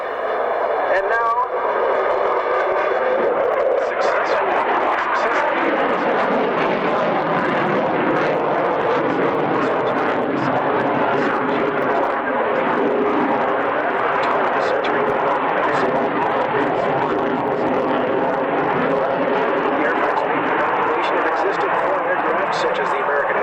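A Saab JAS 39 Gripen multi-role fighter jet flies at the 2001 Mildenhall Airshow, its broad, sustained roar filling the air while an announcer talks over a loudspeaker.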